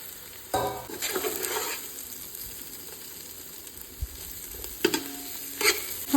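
Onion and tomato fry in a pan for prawn biryani, a steady low sizzle broken by a few louder bursts as the mixture is stirred, with no voices.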